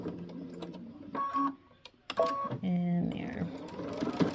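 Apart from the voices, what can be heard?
sewing machine stitching a dart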